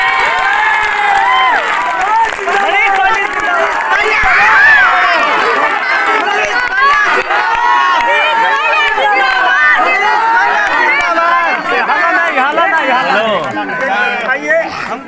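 A large, noisy crowd of supporters at a municipal ward election campaign in Sitamarhi, with continuous cheering, shouting and children's voices close by, and someone talking over the din throughout.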